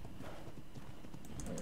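A horse in a video game walks with a steady clip-clop of hooves, close and moderately loud, over a low ambient game backdrop.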